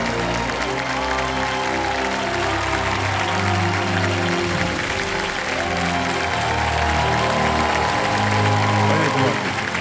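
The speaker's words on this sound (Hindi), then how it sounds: "जोरदार तालियां कुमार मंगलम बिरला जी।" Loud studio audience applause on the KBC game show for guest Kumar Mangalam Birla, sustained dense clapping mixed with background music and some voices, even and full throughout.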